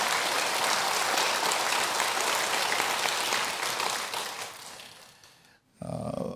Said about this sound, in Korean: 우리 찬양대한테 격려의 박수 한번 보내주시면